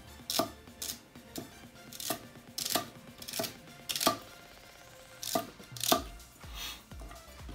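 An IO Shen 240mm gyuto knife chops through celery on a cutting board, giving a series of sharp, crisp knife strikes at an uneven rhythm, close and clear with no talking.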